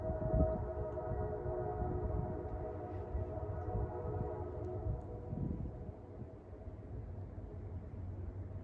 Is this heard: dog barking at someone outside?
no